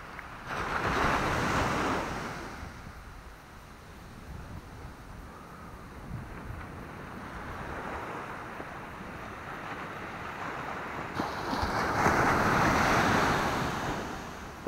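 Gentle surf washes onto the beach at Maspalomas on a calm, windless morning, soft waves swelling and receding in slow surges at moderate distance, with no one talking.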